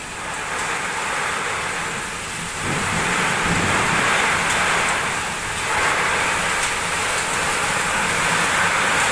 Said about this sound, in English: drenched the capital in torrential rain and battered with violent wind and hail